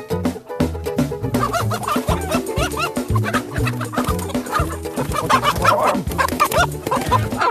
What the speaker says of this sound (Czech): tak na to máme originál pěknýho kohouta